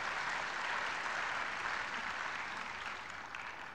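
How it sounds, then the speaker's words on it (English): Faint, even applause from a veterinary conference audience after a speaker, a uniform wash of many hands clapping that fades slightly toward the end. "could I ask you to give her a round of applause?"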